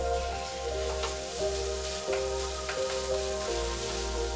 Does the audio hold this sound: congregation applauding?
no